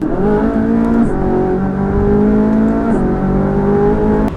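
A Ferrari engine revs hard and loud through an upshift, the pitch climbing steadily, dropping briefly at the gear change, then climbing again under continuous engine roar.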